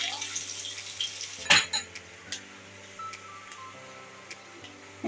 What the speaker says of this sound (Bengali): এটা পেঁয়াজটা দিয়ে দেবো।